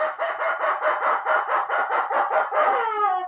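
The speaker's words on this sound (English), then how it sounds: "And the rubber chicken says" A rubber chicken toy lets out a long, loud, pulsing squawk, a rapid train of about a dozen bleating bursts ending in a sustained falling squeal, close up and alone.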